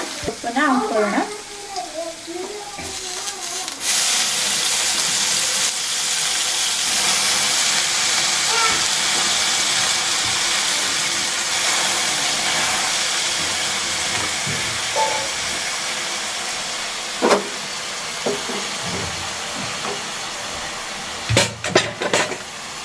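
Fenugreek greens tossed into hot oil with browned garlic, a loud steady sizzle that swells as the leaves hit the oil and fades slightly, with scattered stirring clinks toward the end; no talking.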